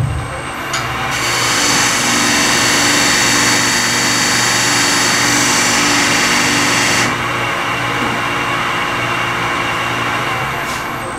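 A woodturning lathe runs steadily and loudly while a skew chisel is held against the spinning wood to burn a line, adding a sustained high friction hiss for several seconds over the motor's constant hum.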